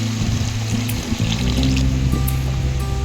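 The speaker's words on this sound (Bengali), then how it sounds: "মশলা রেডি, এখন জল দিয়ে অ্যাড করে দেবো।" Water being poured into a pot of prepared spice paste for a curry, a steady close trickling and splashing stream that runs continuously through the clip, with a low background hum and no talking.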